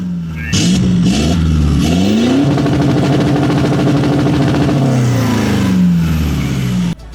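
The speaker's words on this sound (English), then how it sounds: "that exhaust is responsible for something called the popcorn launch." Toyota Land Cruiser 79 2.8 GD-6 with a Graaf exhaust doing a popcorn launch: the engine revs up and holds a loud, rising mid-range roar for several seconds, then settles back down and cuts off sharply at the end.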